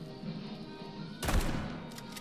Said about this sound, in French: Chaque fois que je change d'arme, il tire.